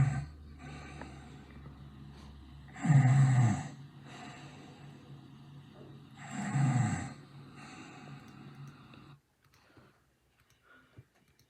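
A person imitates snoring with the voice, two loud rasping snore bursts about three seconds apart over a low background hum, followed by near silence.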